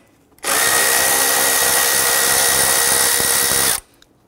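A power tool spins steadily on the 10 mm bolts of a metal bracket on a 2005-2011 Nissan Frontier 4.0L V6, a loud, close, continuous whine lasting about three seconds before cutting off.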